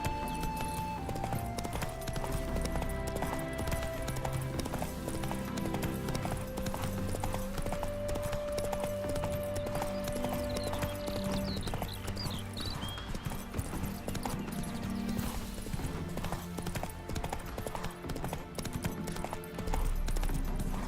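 Clip-clop hoofbeats of a horse galloping steadily in The Witcher 3, mixed with game music and occasional whinnies, continuous throughout.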